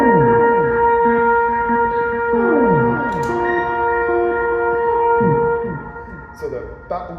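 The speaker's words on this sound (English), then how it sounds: "that's very typical of a sample and hold, but since this is a pitch shifting pedal, it's doing a lot." Wind instrument notes run through a pitch-shifting pedal's sample-and-hold effect, sustained tones breaking into stepped, gliding pitch sweeps and repeated shifted copies, loud and continuous with no talking.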